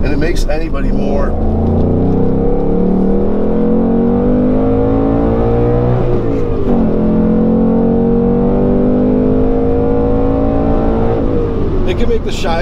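A Ford Mustang Bullitt V8 engine rumbles loudly and continuously from inside the car while driving, with rising and falling revs under steady speech throughout.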